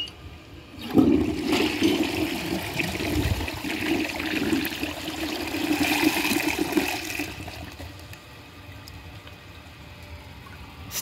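A Compton toilet flushes on its second flush, a loud rushing swirl of water that holds steady for several seconds and then fades to a quieter refill trickle, with no talking.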